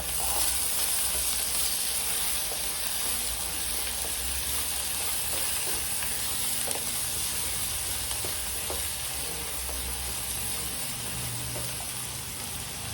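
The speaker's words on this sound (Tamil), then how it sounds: "வெங்காயம் தக்காளி எல்லாம் வதங்கிறதுக்கு போட்டுக்கிறேன்" Onions and tomatoes sauté in a pan, a soft even sizzle hissing continuously with occasional faint stirring taps, no voices over it.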